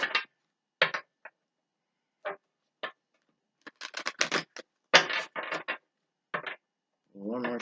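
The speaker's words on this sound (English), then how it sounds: "One more shuffle." Oracle cards from a Mother Mary deck being shuffled, a series of short papery riffles and taps in irregular bursts, close and fairly quiet with silence between.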